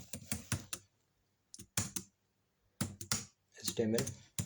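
Code is typed on a computer keyboard in quick bursts of close, crisp key clicks separated by short pauses.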